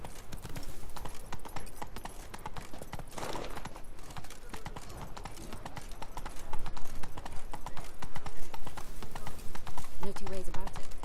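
Roach, a horse in The Witcher 3: Blood and Wine, clip-clops at a steady walking rhythm, hooves close and clear, under game music and ambience with voices talking over parts of it.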